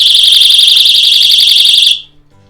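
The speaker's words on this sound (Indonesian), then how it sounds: "di alarm tersebut akan terdengar suara keras yang menandakan kita dalam keadaan bahaya" A Japanese randoseru school bag's safety alarm sounds after its cord is pulled, a loud, piercing, steady electronic shriek that holds for about two seconds and then cuts off abruptly.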